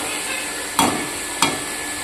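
Ground spice masala frying in hot oil for chicken curry: a steady, close sizzle throughout, broken by two quick scraping stirs of a spoon in the pan.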